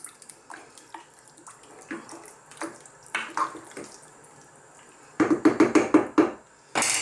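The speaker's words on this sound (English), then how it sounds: "Now I'm going to put in some water." Water is poured into a cooking pot for a vegetable pasta dish, heard as scattered splashes and clunks that build into a louder, choppy burst of pouring near the end.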